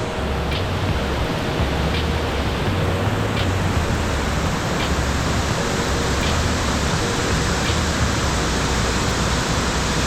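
Waterfall rapids rush in a loud, constant roar of broadband noise, close by and steady throughout with no voices.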